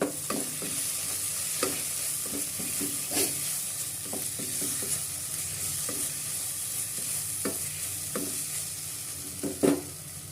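Turmeric and coriander powder masala is stirred in a hot pan for green pepper chicken curry. A spoon scrapes in repeated uneven strokes over a continuous soft sizzle, close up with no talking.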